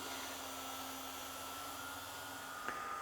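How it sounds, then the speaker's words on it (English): A small homemade vacuum cleaner on a model railway runs along the track with a steady, whining motor hum, constant and close, with a faint click near the end. "So, as odd and stupid as it looks, it is vacuuming. It's working."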